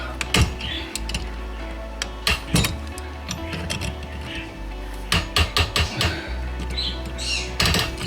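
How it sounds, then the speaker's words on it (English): A hot water shutoff valve under a bathroom vanity being slowly broken loose, heard as scattered sharp metallic clicks and knocks in uneven bursts over a steady low hum. "Slowly gonna break the valve."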